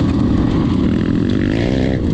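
A Honda CRF 450 dirt bike engine drones close by, a loud, throaty, steady motor note with slight pitch wavering over a couple of seconds.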